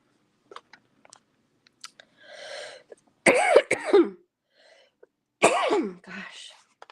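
Repeated coughing bursts from a tired speaker, two loud close clusters with a few smaller throat sounds and breaths between, heard alone without speech.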